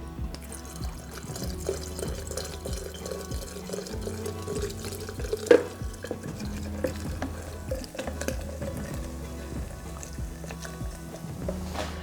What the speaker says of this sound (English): I might also add in a little splash of Pellegrino as well to give it that kind of bubbly soda taste.